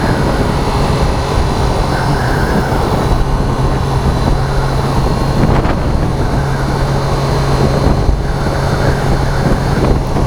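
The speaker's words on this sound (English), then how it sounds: "But I love the sound of this bike." Sports motorcycle engine running steadily and loud for the whole stretch, a dense continuous drone with a low hum and brief rises in pitch, no voices over it.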